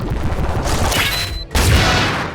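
Heavy cannon blasts in a video game, two loud booming shots heard close, the second landing about halfway through.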